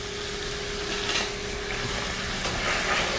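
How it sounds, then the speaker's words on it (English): Sauce thick with varied textures and mustard powder is stirred in a pan, giving a steady, close scraping and sizzling swish that runs unbroken for about three seconds, with no voices. "And I'm just going to stir that up."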